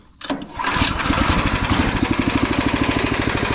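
A Predator engine swapped into a Wheel Horse tractor fires up with a sharp start, then settles into a loud, steady, chugging idle with a regular thumping pulse, close by.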